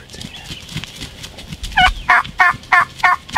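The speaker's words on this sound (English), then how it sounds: "We got this gobbler still gobbling down here in front of us." A Pennsylvania wild turkey gobbler in the field lets out a rapid series of loud, close gobbles, five or six rattling bursts in a steady rhythm, after faint rustling outdoors.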